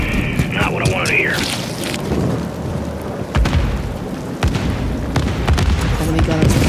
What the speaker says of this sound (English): Enemy guns. Ship.